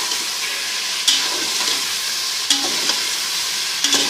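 Garlic ginger paste fries in a pan for a biryani, a steady close sizzle with a few sharp scraping stirs of a spoon breaking through.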